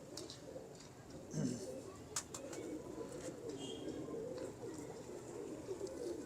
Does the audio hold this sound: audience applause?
no